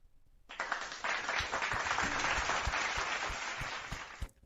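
A live audience breaks into a burst of applause that lasts about four seconds, dense and steady, then trails off.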